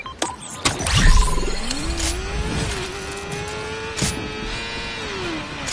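A Fortnite motorbike engine revs and drones at a rising, wavering pitch, mixed with sharp clicks and bursts of game effects.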